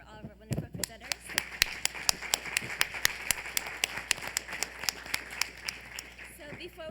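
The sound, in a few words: audience applause for conference presenters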